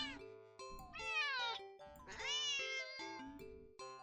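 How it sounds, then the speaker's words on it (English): A cat in a video game gives a series of sharp, drawn-out meows, close and clear, repeating in two long rising cries with shorter calls between. "the cat meows sharply at you"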